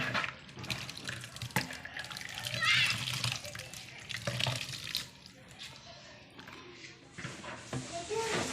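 Water runs from a tap into a sink in a rural kitchen while food is being prepared, a steady close splashing stream that swells and eases, with people talking in the background.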